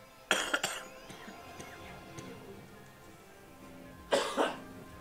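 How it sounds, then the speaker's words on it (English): A person coughs twice in a quick pair near the start, then again after a quiet pause, sharp and close with a little throat-clearing edge. "Please excuse my coughing"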